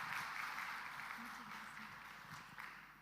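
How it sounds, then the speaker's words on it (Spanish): An audience at a health conference applauds a speaker, a soft, steady, somewhat distant wash of clapping with faint voices underneath, slowly tapering. "Así que un fuerte aplauso, démosle de nuevo a Karen por estar aquí."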